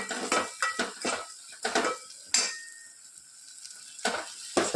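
Dal being tempered with ghee and oil in a pot, with repeated metallic clinks and scrapes of a spoon against the pot over a soft sizzle, close and fairly quiet, with no talking.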